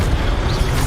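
A Levioso spell cast in Hogwarts Legacy, a loud, dense magical burst with a deep booming low end filling the whole brief moment.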